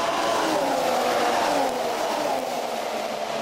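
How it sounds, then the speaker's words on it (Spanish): Formula 1 cars at the 2014 Malaysian Grand Prix, with a loud, continuous engine drone and shifting pitch from nearby cars, heard alone without talk. "sonido de los motores, muy criticado."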